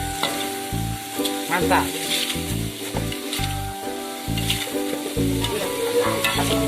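Water hyacinth stems frying in oil in a pan, a steady loud sizzle with rhythmic scraping stir strokes throughout, close up, with a brief spoken word.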